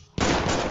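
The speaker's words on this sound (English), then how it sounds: "He just shot Jimmy" Gunfire erupts in the video game Grand Theft Auto V as a sudden loud, dense burst of rapid shots that continues without a break through a brief moment.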